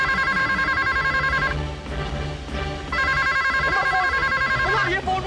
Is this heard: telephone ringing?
yes